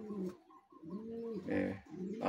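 Racing pigeons coo softly in a few short throaty phrases, close by and quiet.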